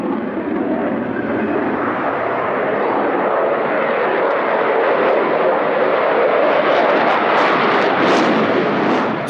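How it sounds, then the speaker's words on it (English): A jet aircraft performs a display at the Farnborough 2004 airshow, banking, rolling and yawing at high angle of attack; a loud, continuous broadband engine roar fills the whole stretch, steady and close, with no talk over it. "Slowing the aircraft down with this roll and yawing and pitching all at the same time"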